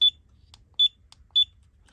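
Three loud, high-pitched electronic beeps from an LDARC CT01 8-channel RC radio transmitter at a steady, even pace, with brief quiet gaps between them and faint clicks underneath.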